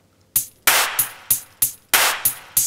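A programmed Logic Pro drum beat with added hand claps layered over jingly Latin percussion: sharp, bright claps land on a steady pulse between quicker ticks, loud and up front with nothing else heard.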